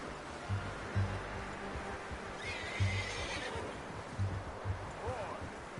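A horse in Red Dead Redemption 2 whinnies and neighs clearly while hooves clip-clop at a steady walking rhythm, with faint ambient game sound and rustling behind.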